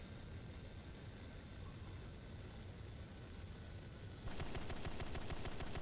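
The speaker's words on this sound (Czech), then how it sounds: "Kterou si pomůžeme stáhnout kanónama." Horten Ho 229 cannons fire in War Thunder, the rapid automatic burst cutting in near the end over a steady engine and wind drone, loud and close.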